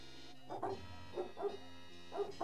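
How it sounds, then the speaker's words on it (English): A puppy-like hellhound in Return to Zork barks in a quick series of about five yaps, moderately loud and close, with short pauses between them and no speech. "It's a puppy!"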